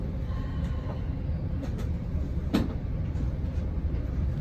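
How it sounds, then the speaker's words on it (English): A train passing near a station on a line carrying traffic from the Port of Los Angeles around San Pedro, heard as a steady, loud rumble with faint rail clatter throughout, and no talk over it. "That train, I believe, came from the port of LA or San Pedro."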